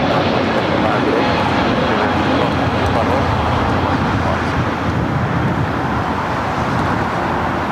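A JetBlue jet departing LAX for JFK gives off a loud, steady engine roar that fills the whole stretch, with some talk over it.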